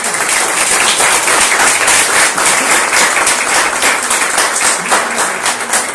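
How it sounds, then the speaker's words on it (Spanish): Audience applause for the presenter at a book launch, loud sustained clapping from a sizeable crowd filling the whole stretch, steady and close. "yo pues les pido un caluroso aplauso para nuestro expositor"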